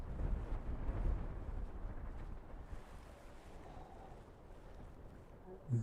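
Wind gusting across an outdoor microphone near scenic open terrain, a low rumbling buffet that swells early, eases off, then surges again at the end, with no talk over it.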